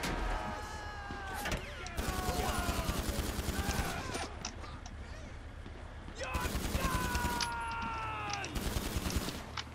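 Video game gunfire crackling in rapid automatic bursts, loud and close, in two heavy volleys separated by a quieter stretch, with a voice talking over it.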